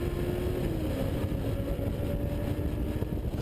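Jeep Renegade driving hard on a race track, a loud sustained engine drone with shifting pitch as it accelerates, heard from inside the cabin with constant road and wind noise.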